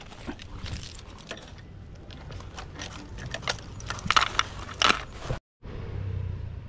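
Keys jangle close by in a few short metallic bursts, loudest near the end, over steady outdoor background noise during a trip into town.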